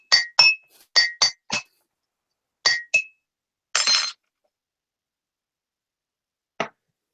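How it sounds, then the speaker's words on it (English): Sharp glass clinks in quick clusters, several bright taps close together, then a harsher rasping scrape as the glass gets chipped, followed by one last isolated tap in a quiet room. "I just chipped the glass."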